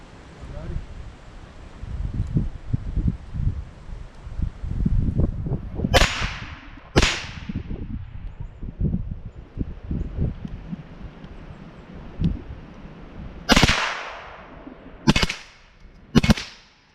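AR-15 rifle chambered in 300 Blackout fired in semi-auto mode outdoors: several sharp, loud single cracks spaced apart, heard over wind and rustling.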